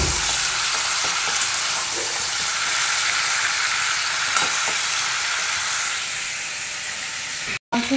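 Meat fries in hot oil with a loud, unbroken sizzling hiss close to the pan, with faint crackles throughout. The sound cuts out for a moment near the end.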